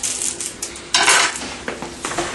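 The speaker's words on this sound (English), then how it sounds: "And we chop up the onion." A knife chops an onion on a cutting board, several quick irregular knocks close up, with a louder burst of cuts partway through.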